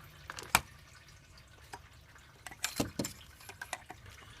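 Coolant from a 2002 Mazda Millenia drips into a drain pan beneath the car, faint scattered patters and a few sharper splashes spaced irregularly over a quiet background.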